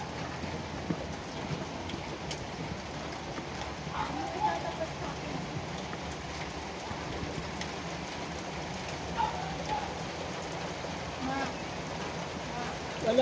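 Light summer rain patters steadily on surfaces, faint and continuous, with a few scattered louder drops against a soft background hiss.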